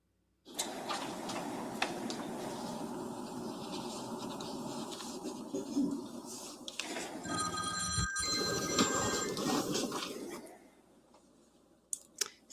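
A telephone rings in a courtroom during a murder trial, its electronic warble repeating over several seconds amid low room noise and shuffling, then fading out near the end.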